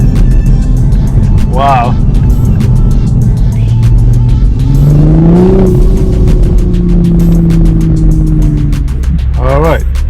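A 2021 Toyota Supra A91 MK5 hums steadily through a U-turn, its engine note dipping and rising in gear changes over a low road rumble, with a short exclamation spoken in the car.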